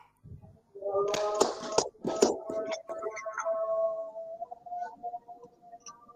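A group claps in unison three times as part of an afternoon clap routine: a few sharp, close claps in quick succession, mixed with chanting voices that hold on and then fade.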